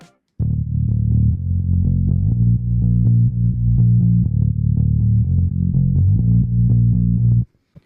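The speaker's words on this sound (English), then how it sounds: "you'll actually hear the side chaining compression pumping in." Soloed sub bass channel from a high-energy modern rock mix, with sidechain compression pumping. A loud, continuous low tone dips rhythmically as it is ducked, and no voice is heard.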